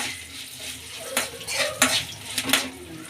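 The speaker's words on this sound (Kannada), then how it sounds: "ಬ್ಯಾಡಿಗೆ ಮೆಣಸಿನ್ಕಾಯಿ ಚೆನ್ನಾಗಿ ಫ್ರೈ ಮಾಡ್ಕೊಳ್ಳೋಣ" Byadgi chillies and curry leaves fry in a pan for a tempering for gorikayi tambuli, with scraping stirs and brief metal clinks over a soft background sizzle, close and fairly quiet, with no talking.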